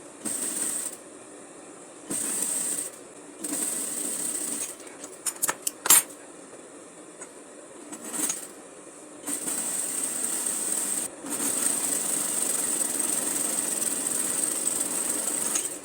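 An electric sewing machine topstitching a fabric strip runs in several whirring bursts of varying length, separated by short pauses and brief clicking handling noises, close and steady.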